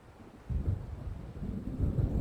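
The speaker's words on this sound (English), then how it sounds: "It seems there's a storm coming." Thunder from an approaching storm in the video game Alan Wake: a low, soft rumble swelling in after a quiet start and rolling on in uneven waves, distant and faint.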